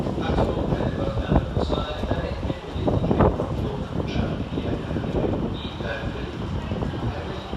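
Class 153 diesel units 153.910 and 153.367 pull into Cardiff Queen Street station as a Transport for Wales service, a steady rumbling engine and rail noise with wind buffeting throughout.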